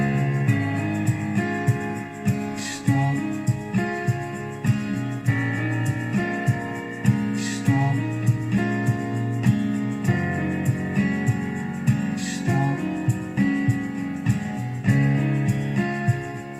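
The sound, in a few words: song mix playback with guitar, organ and beat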